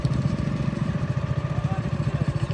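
A stationary tractor engine idles with a steady, pulsing low chug that stays even and close throughout.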